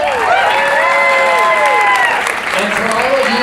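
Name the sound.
applause and cheering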